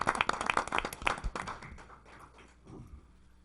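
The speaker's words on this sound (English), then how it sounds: "So let's give her a round of applause, okay?" Brief round of applause from the audience at a city council meeting, a burst of scattered claps that quickly thins out and fades to quiet within a couple of seconds.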